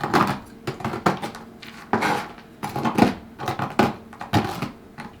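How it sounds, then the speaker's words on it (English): Pistachios are chopped by hand with a large Cutco chopping knife on a board, making a quick, irregular series of sharp, close knocks and crunches, loud and without talk. "in the old-fashioned way I simply chop them with a large chopping knife"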